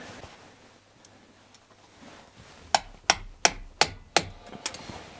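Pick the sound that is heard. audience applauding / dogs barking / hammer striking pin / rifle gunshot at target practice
hammer striking pin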